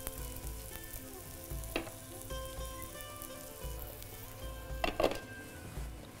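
Eggplant slices fry on a dosa griddle over medium heat, a soft, even sizzle with a couple of faint clinks and a short spatter of crackling toward the end.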